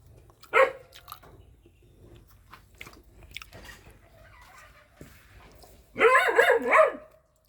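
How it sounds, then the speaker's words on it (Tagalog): A pregnant dog barks near a home kitchen, one sharp bark early on, then quieter scattered sounds before a louder burst of barking or whining toward the end. "Ingay ng aso."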